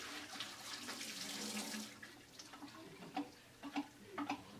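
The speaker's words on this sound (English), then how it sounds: "I'm going to dump out the water" Water is dumped out of a film developing tank into a sink, a brief gushing pour followed by scattered drips and small splashes, fairly quiet and close.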